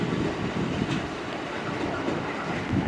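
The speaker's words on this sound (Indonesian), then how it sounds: "R6006 berangkat dari jalur 2 tujuan Jakarta Kota." A KRL commuter train at a Jakarta station rumbles steadily past, with a continuous loud broadband roar of wheels and carriages and faint rhythmic clatter throughout, no voices.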